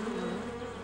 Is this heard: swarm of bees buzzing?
yes